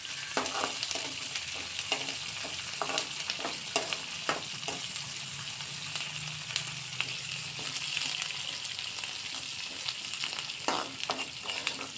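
Onion, green chilli, mint, coriander and curry leaves fry in a pan with a bright continuous sizzle. Repeated scraping stirs cut through it close up at an uneven rhythm.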